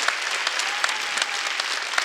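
A church congregation at a Wednesday worship service claps for the choir, producing a steady, dense wash of applause with no voices above it.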